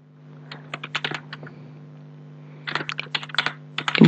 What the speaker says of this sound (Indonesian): Jadi, Ibu akan ketikkan di sini.